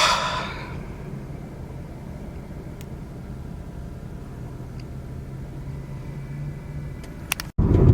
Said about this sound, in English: let's just enjoy this moment as we drive for the last time in the Q60